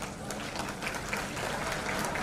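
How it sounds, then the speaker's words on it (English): Audience applause at a student leadership event for Young Talent Council members: a continuous, even wash of clapping from a crowd, moderately loud and slightly distant, without distinct individual claps. "deserve a big round of applause from all of us"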